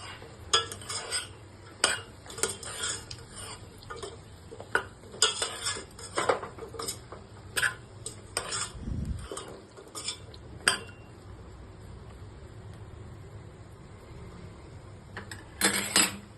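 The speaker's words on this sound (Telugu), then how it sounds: "అన్నీ ఒకసారి మిక్స్ చేసుకుందాము." Mixed vegetable curry stirred in a metal pot, a spoon scraping and clinking against the sides in uneven bursts, close and moderately loud, with quieter gaps between strokes and no talking.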